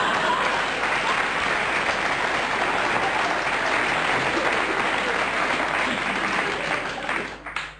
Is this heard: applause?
yes